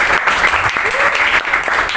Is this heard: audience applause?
yes